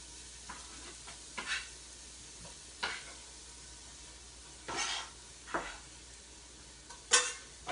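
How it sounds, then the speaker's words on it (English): A hot pan with ingredients for spaghetti carbonara, giving a steady low sizzle broken by several louder hissing bursts as food is stirred or added, close and with no talking. "You can already hear it start to sizzle"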